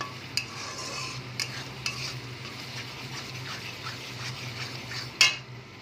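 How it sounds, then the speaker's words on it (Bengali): Tomato and onion masala frying in oil for an egg curry with duck eggs and potatoes, a soft continuous sizzle broken by a few sharp spatula clinks on the pan, the loudest near the end. "ভালো করে কষিয়ে নেব। ততক্ষণ কষাবো যতক্ষণ না তেল ছেড়ে আসে।"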